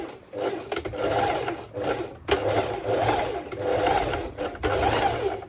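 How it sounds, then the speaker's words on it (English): A sewing machine stitches bikini top fabric back and forth in several short bursts of close, buzzing whir, separated by brief pauses and sharp clicks as the direction changes. "I do a few straight stitches back and forth to secure"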